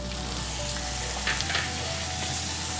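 Cauliflower and potato fry alongside spices with cumin powder and chopped tomato in a pan, giving a steady, close hiss of sizzling with occasional soft stirring scrapes.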